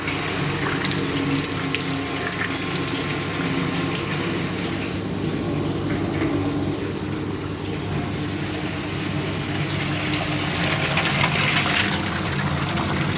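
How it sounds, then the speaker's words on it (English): Water rushing through a small bore pipe on a friction-loss test rig once the valve is opened, a steady broadband hiss and gush that holds constant and loud throughout, with a low hum beneath it. "When I will turn on this valve, the water will flow down into this small bore pipe."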